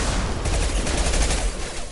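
Heavy gunfire from a shotgun fight in Mass Effect 2, a dense, continuous barrage of loud blasts and crackling impacts filling the whole stretch without a break.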